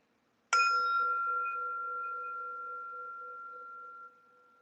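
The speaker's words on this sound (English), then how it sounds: "Actually, I like to start with a bell and a bow" A meditation bell is struck once and rings out with a clear, steady tone, fading slowly over several seconds in an otherwise silent room before a quieter remainder.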